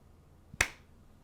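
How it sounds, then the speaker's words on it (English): One sharp, quiet hand clap cracks out at once against near silence, marking a recording sync point, with a faint softer tap just before it. "My clap is kind of quiet."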